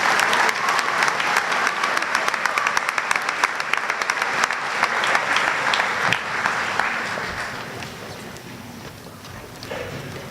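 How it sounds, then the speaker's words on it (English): Sustained applause from an audience at a high school awards program fills the hall with dense, close clapping that gradually thins and fades toward the end. "let's give these students another round of applause."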